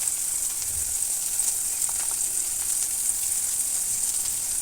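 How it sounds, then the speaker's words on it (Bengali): Tomato, onion and ginger-garlic paste fry in a pan while being stirred continuously, giving a steady, even sizzle and hiss throughout, with no voices. "এবার টমেটো পেঁয়াজ আর আদা রসুন পেস্ট দিয়ে এবার অনবরত নাড়াচাড়া করে আমি কষিয়ে নেবো"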